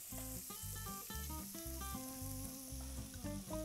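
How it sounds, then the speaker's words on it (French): Chorizo and onions fry in a hot pan with a continuous soft sizzle under a prominent musical backing, fairly quiet and without speech. "Donc je vais très rapidement ajouter mon chorizo et mes oignons."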